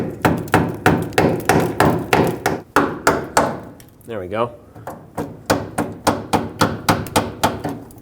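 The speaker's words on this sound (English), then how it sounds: "Grab a small hammer, tap this just a little bit." Steady, rapid small-hammer taps on a metal brake hose fitting of a Ford F-150, sharp and close, repeating in a regular rhythm with a brief pause midway where a voice speaks.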